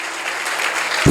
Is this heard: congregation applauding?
yes